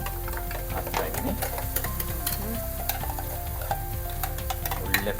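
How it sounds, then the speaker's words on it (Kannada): Ground masala paste sizzles and fries in hot oil for South Indian egg sambar, stirred with a spoon scraping the pan in a steady rhythm, close and fairly loud with no talking. "ಈಗ ನಾನೇನು ರುಬ್ಕೊಂಡಿದ್ದನ್ನ ಹಾಕ್ಕೊಂಡು ಮಸಾಲೆ ಮಿಶ್ರಣ ಎಲ್ಲನೂ ಅದನ್ನು ಈಗ ಹಾಕೋಕ್ಕೆ ಹಾಕ್ತಾ ಇದ್ದೀನಿ"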